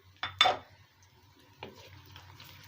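A spoon scrapes and knocks against a pan of frying onions, cinnamon pieces, black peppercorns and black cardamom, giving two sharp clatters, then a lighter knock over a soft low sizzle.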